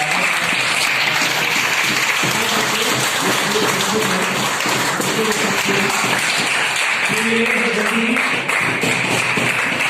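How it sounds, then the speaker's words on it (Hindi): Audience at a company motivational event gives a loud, sustained round of applause, a dense wash of clapping lasting about ten seconds, with a voice speaking over it partway through. "एक बार बहुत जबरदस्त तालियों के साथ"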